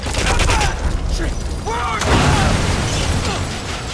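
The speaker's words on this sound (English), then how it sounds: "There was an explosion." A loud explosion in the video game Metal Gear Solid V, part of a helicopter crash sequence with booming blasts and crackling debris filling the clip.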